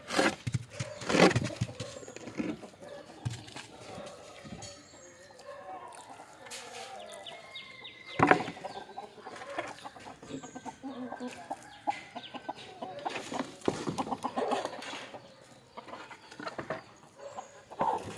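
Free-range country chickens cluck and call as their coop is opened, a busy, fairly close chorus of clucks and squawks with rustling and scattered knocks, with no clear talking.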